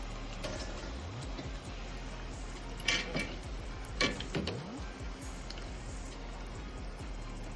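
Turmeric water goes into hot oil where banana chips are frying, bringing a crackling, spattering sizzle with scattered bursts and metallic pan clinks, moderately faint and close, no speech.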